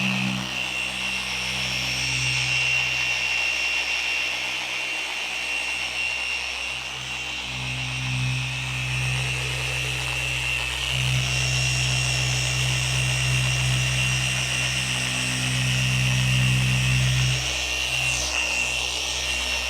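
Rotary polisher set around 1400 cutting and polishing the paint of a 2023 Mustang GT, a steady whirring hum close by, running continuously with slight swells.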